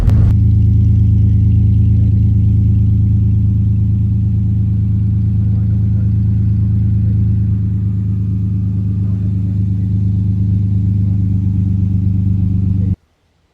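A car fitted with a cheap cat-back exhaust system rumbles loudly with a deep, steady low drone, holding near idle with slight swells before cutting off abruptly.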